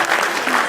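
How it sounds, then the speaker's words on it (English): Audience applause at the Baker League premiere event, a short steady burst of many hands clapping filling the room with no break. "Let's give Ryan a round of applause."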